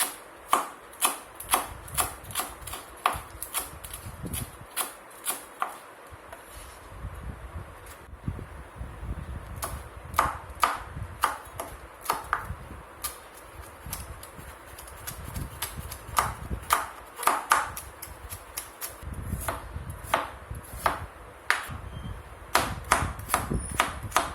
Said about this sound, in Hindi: Chop them in very thin stripes